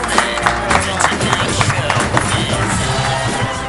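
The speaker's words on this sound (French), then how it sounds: "les applaudissements pour Tchalfin" A studio audience applauding on a French-language television talk show, dense continuous clapping with cheers mixed in, loud and close throughout.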